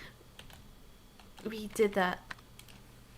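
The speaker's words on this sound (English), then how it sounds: "Wow, so much typing." Soft clicking of fingers typing on a computer keyboard scatters through the background, with a person's voice speaking briefly in the middle.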